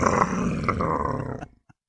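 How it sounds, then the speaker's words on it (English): Dogs growl in the background, a rough, rumbling snarl with a few sharper yelps, lasting about a second and a half before cutting off into near silence. "And there's even dogs in the background."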